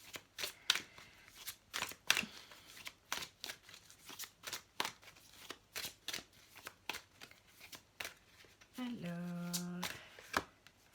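Oracle cards shuffled by hand, giving a close, crisp series of riffling snaps in irregular bursts, followed near the end by a brief tonal sound.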